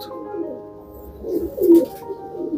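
A Firozpuri pigeon coos close by in a Parbhani loft, giving low, soft throaty calls in a couple of short swells, with quiet ambient noise around them.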